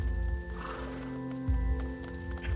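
Horse in the medieval video game A Plague Tale: Innocence, heard as soft hoof clip-clops and snorting whinnies close by over a low game music drone, with no talk.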